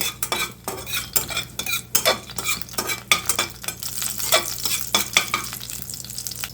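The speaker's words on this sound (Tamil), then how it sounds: "இது கொஞ்சம் பொரியட்டும்" Whole spices, including a bay leaf, sizzle in hot oil as a spoon scrapes and stirs the pan in repeated strokes, up close with no voices.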